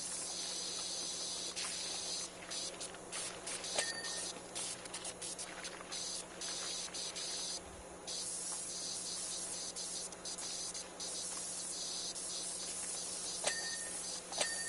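Pressure washer spraying stains off surfaces in the video game Power Wash Simulator 2, heard as a steady, fairly faint hiss of water spray running continuously with small flickers in intensity.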